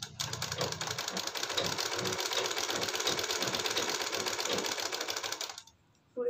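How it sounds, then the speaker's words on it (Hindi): A sewing machine runs in one steady burst for nearly six seconds, stitching close along the edge of a boat-neck piece, then stops abruptly into near silence. "लगा लेंगे एक बिल्कुल किनारा से सिलाई"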